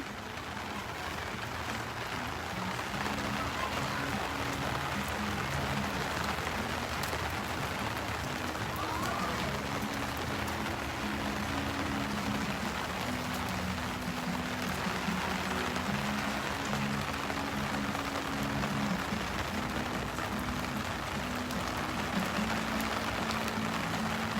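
Steady rain patters on surfaces outdoors at a children's play area, a continuous even hiss of drops that stays constant throughout, with no clear voices.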